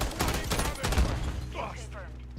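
Rapid bursts of gunfire crackle in a video game, a dense volley up front and then scattered shots further back, with game sounds and radio chatter mixed in.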